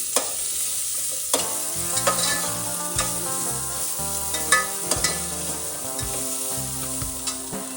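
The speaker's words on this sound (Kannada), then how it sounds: "ಫಸ್ಟ್ ಇಂಗ್ರೀಡಿಯೆಂಟ್ಸ್ನ ಫ್ರೈ ಮಾಡ್ಕೊಳ್ಳೋಣ" Ingredients sizzling in a hot pan with a constant crackle, punctuated by sharp clacks of a utensil stirring, over soft background music.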